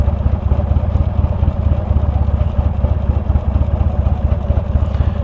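An old Buell motorcycle engine runs steadily nearby, a low rhythmic throbbing rumble that holds constant throughout.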